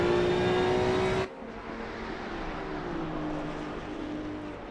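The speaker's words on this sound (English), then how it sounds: "Listen to those tires scream." GT2 race car tires screeching at Imola in a sim racing game, a loud tonal squeal that cuts off sharply after about a second, followed by steady engine drone with fainter tire squeal.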